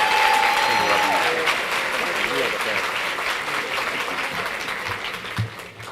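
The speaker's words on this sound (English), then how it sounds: "Can we give her another round of applause?" An audience applauds a guest at an early-morning gathering, a dense burst of clapping that starts loud and slowly tapers over several seconds, with a short whistle near the start.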